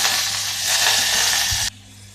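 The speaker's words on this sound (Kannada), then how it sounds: "ಇದಕ್ಕೆ ಸಾಸಿವೆ ಸಿಡಿಸ್ತಾ ಇದ್ದೀನಿ" Mustard seeds spluttering in hot ghee in a pan, a loud continuous crackling sizzle that runs steadily and then drops off abruptly to a faint hiss, with a soft low thump near the end.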